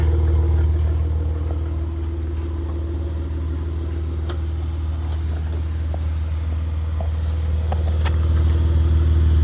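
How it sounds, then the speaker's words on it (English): A 2014 Jeep Wrangler Unlimited 4x4 idles through an aftermarket exhaust with a steady, deep, loud rumble close by, unbroken throughout, with no talking. "It's got an aftermarket exhaust, sounds pretty good."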